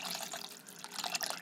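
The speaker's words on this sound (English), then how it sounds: "I'm gonna add like approximately 1 cup or cup and a half of water" About a cup of water pours steadily into a pot of stuffed cabbage dolma, a continuous splashing trickle close up with no talking.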